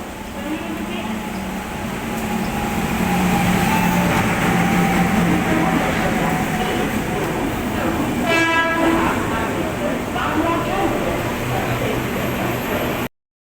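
The Saurashtra Mail rolls into a station with a loud, steady rumble and rattle of wagons, and a long horn blast sounds partway through before the train keeps grinding on alongside platform noise.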